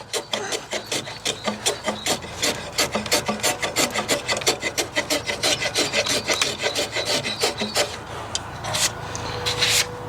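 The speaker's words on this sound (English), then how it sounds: "I think I could be a bit braver with the chisel down here." A chisel pares and rasps at a wooden workpiece in steady rhythmic strokes, each a short scraping burst repeating quickly and closely for the whole stretch, with no talking.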